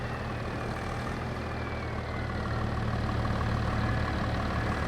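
Tractor engine in Farming Simulator 22 during grape harvesting and cotton field work, a steady loud droning rumble that holds constant throughout with no talk over it.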